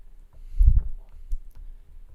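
Marker or chalk writing numbers on a board, heard as soft, close scratching and tapping strokes with a brief louder burst, with no talking.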